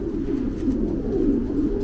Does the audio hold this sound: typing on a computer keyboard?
no